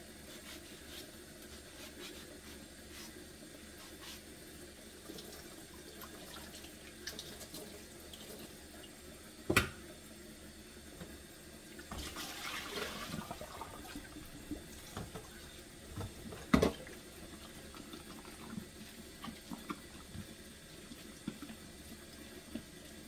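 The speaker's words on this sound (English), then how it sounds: "I have to regulate the water a little bit" A kitchen tap runs water into a sink for a long stretch, a soft steady hiss with a few sharp knocks and splashy rubbing as dishes and hands move about, with no talking.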